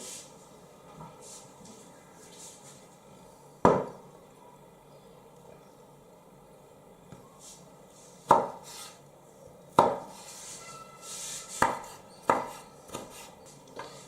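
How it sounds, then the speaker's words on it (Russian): A knife finely chops eggplant flesh on a cutting board in sparse, irregular chops, about six sharp knocks spread over quiet stretches, close and crisp. "Далее вот эту нашу вынутую сердцевину мелко нарезаем."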